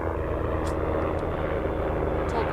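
A helicopter flies overhead, its engine and rotor a steady, loud drone that fills the whole stretch.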